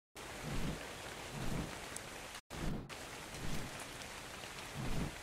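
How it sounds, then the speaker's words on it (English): Rain falls in the video game Ark, a dense steady hiss of rain on surfaces with soft low rumbles that swell and fade, broken once by a brief dropout. "I'm pretty sure most people's computers don't like this rain much either."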